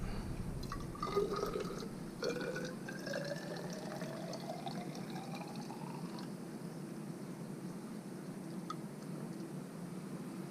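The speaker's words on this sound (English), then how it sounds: "Pour that in to our mix" Liquid pours in a thin stream into a trace element dosing mix for an aquarium, the gurgle rising in pitch as it fills, then settling into faint drips.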